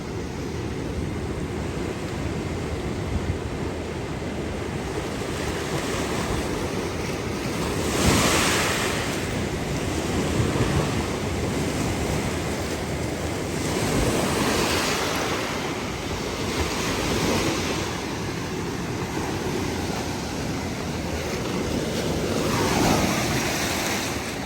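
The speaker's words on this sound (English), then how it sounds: "Look at those swells." Ocean swells and surf at Marine Lab in Mangilao, Guam: rough waves rolling and crashing in repeated surges under constant wind buffeting the microphone, loud and unbroken.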